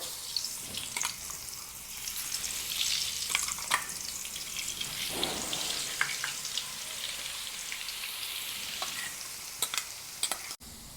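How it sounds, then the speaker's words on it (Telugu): Ginger garlic paste sizzling in hot oil, a soft, continuous crackle with scattered stirring scrapes and clinks, fairly faint and close, with a sharp knock near the end. "ఇప్పుడు ఇది అల్లం వెల్లుల్లి పేస్ట్ ఇందులో వేసుకుంటున్నా"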